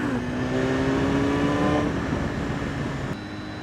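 The engine of a 2016 BMW S 1000 RR motorcycle on the road howls steadily near its rev limiter, a loud, sustained high-revving drone that drops slightly toward the end.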